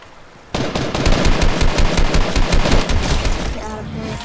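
Rapid automatic gunfire rattles out in a Fortnite mobile match, a loud sustained burst of closely spaced shots starting after a brief quiet moment and running on for several seconds.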